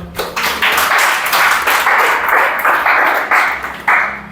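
A classroom of students claps together in a steady, rhythmic pattern during a police recruitment exam prep class, with the loud, close claps continuing for several seconds.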